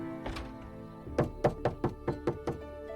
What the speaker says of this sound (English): there was a knock at our door